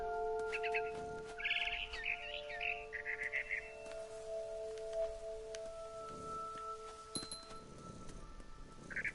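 Barn swallow chirping outside a bedroom window in the game What Remains of Edith Finch: bright, rapid twittering bursts in short runs over a steady ambient bed and soft musical tones, with occasional clinks.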